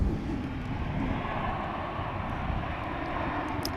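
A jet airliner at Dallas/Fort Worth Airport roars steadily and loudly, a broad continuous engine rumble holding level throughout, with no voices.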